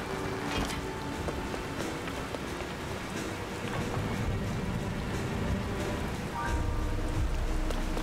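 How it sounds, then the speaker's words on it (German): Rain falls in the video game The Legend of Zelda: Tears of the Kingdom, a steady hiss of rainfall with faint wind. Scattered game sounds sit on top. "es regnet"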